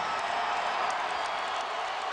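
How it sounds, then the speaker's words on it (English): A basketball arena crowd at a 2006 Los Angeles Lakers versus Toronto Raptors game roars in a dense, sustained wall of cheering that stays loud and even throughout. "Crowd is going nuts."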